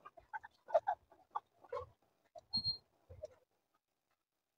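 Chickens cluck inside a poultry building, close and fairly quiet, with several separate short bursts of clucking and squawks broken by brief silences.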